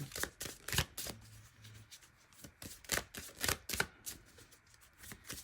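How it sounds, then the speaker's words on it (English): A deck of tarot cards is shuffled by hand in a series of crisp riffles and soft slaps, with a faint voice murmuring briefly in the background. "while shuffling the deck, it's hard to get a card"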